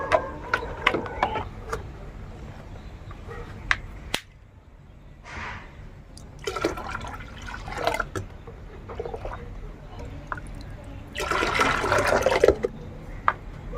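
Water is stirred and sloshed in a container while a potato-water solution for garden plants is mixed, giving irregular splashing and swishing bursts with quiet pauses, close by.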